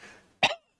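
A man gives a single short cough, close and clear, following a faint murmur.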